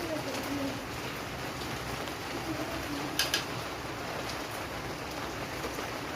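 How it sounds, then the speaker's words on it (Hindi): Heavy rain pours down steadily in a constant close hiss of drops on surfaces, with a faint bird cooing in the background and one brief sharper tap. "कितनी तेज़ बारिश हो रही है"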